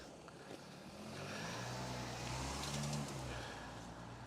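A car passes on a main road near Whalton, a steady rising and fading engine and tyre rumble that swells over about two seconds and then recedes, heard alone and fairly faint.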